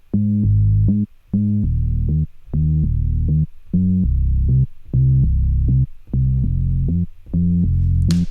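Reggaeton bass pattern played on a Moog-style synth bass, a loud, deep pulsing line in eight even blocks with short gaps, repeating a bouncy rhythmic figure with no voices over it.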